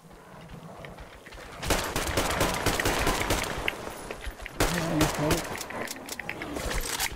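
Rapid bursts of automatic gunfire in the Metro Exodus game on the Volga, fighting bandits and mutants, loud and dense in two long stretches with a short lull between, with a voice faintly underneath.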